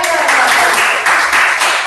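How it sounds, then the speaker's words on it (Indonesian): Students in a microteaching class clap for a classmate after a biology lesson, giving a loud, dense burst of applause that runs the whole two seconds without a break. "Tepuk tangan untuk Esther"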